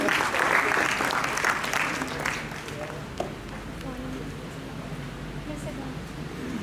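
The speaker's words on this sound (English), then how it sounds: "Please give a big round of applause and welcome Madam." A school audience bursts into a round of applause to welcome a guest speaker at an alumni talk, a dense burst of clapping from many hands that fades within a few seconds into murmuring room noise.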